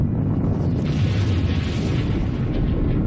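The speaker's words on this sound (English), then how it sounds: "The explosion blasts the shuttle free." A continuous, loud, low roar of the Space Shuttle Challenger explosion rumbles steadily without a break, dense and heavy throughout, with no voices.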